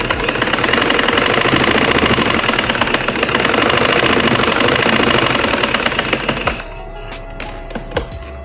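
A sewing machine stitches fabric along the edge in a fast, loud, continuous mechanical chatter that runs for about six seconds, then stops abruptly, leaving faint taps and handling sounds.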